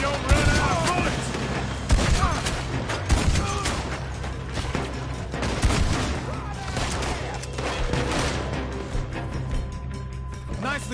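Heavy video game gunfire fills a shootout during a robbery, with dense repeated shots and booming bursts, loud and close, while mechanical clatter and a voice mix in underneath.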